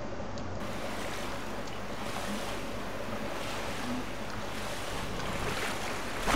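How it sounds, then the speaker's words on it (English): Water rushes and floods through sewers in the video game Black Mesa, a dense, steady roar with no speech over it. "Flood the sewers with water."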